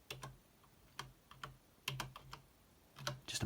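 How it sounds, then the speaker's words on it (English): Quiet, close keyboard typing in short bursts of clicks separated by brief pauses. "Just imagine this is Jonas clicking away on his keyboard."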